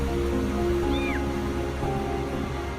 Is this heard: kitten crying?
yes